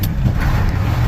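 A Ford 7.3 IDI diesel truck drives on the road under a light pull, giving a steady, loud low-frequency engine rumble with road noise and no talk.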